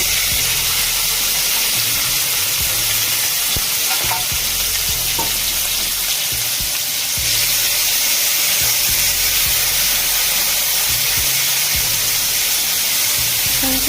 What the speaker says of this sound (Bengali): একটা প্যানে সামান্য তেল গরম করে মাখানো মাংসগুলো এখন দিয়ে দিব